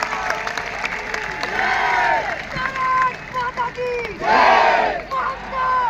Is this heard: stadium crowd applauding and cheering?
yes